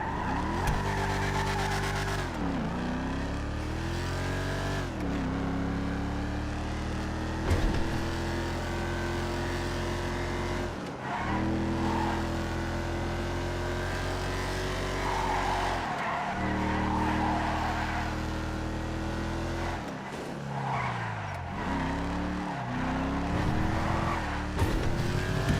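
A two-door classic sports car races in a video game, its engine droning steadily with rising gear-shift sweeps as tires squeal and skid through repeated corners, loud and continuous throughout.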